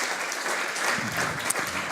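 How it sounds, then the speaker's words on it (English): Audience applause at a startup lightning-round event, a dense steady wash of clapping from many hands filling the room, with a faint voice briefly under it near the end. "so big applause for these amazing guys there"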